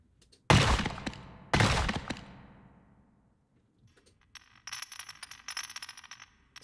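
Two heavy ice-chunk break impacts hit in quick succession, each with a long crumbling decay, followed by a scatter of lighter tinkling debris.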